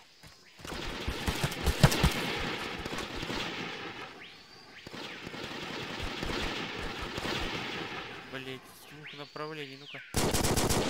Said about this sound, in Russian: Я выстрел еще с одного направления слышал